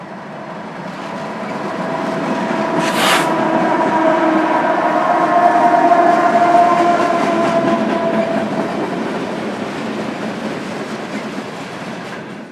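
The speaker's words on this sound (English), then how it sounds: "here we have a freight train coming up from Denver. It's big, it's really long." A long, heavy freight train from Denver rumbles steadily past nearby, wheels clattering on the rails, with a brief high squeal early on and no one talking.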